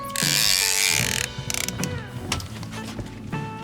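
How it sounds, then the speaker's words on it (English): Fishing reel drag clicking and ratcheting as a fish runs line off the reel, a loud fast mechanical buzz easing into irregular clicks and creaks, with no talk. "Okay, I put on 2 more clicks of drag."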